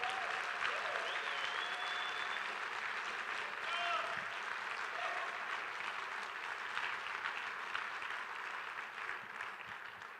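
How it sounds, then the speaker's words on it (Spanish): Church congregation applauds loudly and continuously in a full, even roar of clapping that lasts throughout, with occasional shouts or cries rising above it. "Si le vas a aplaudir al Señor, hazlo fuerte."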